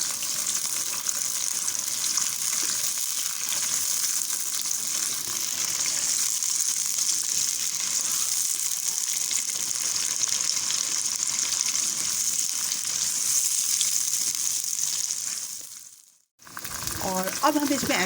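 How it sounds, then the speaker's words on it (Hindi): Sliced onions fry in hot oil in a pan while masala for goat trotter paya is prepared, giving a steady, close, continuous sizzle that drops out abruptly near the end. "तो अब हम इसमें ऐड करेंगे प्याज को हम हल्का सा लाइट ब्राउन करेंगे।"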